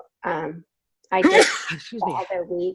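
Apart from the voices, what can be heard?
sneeze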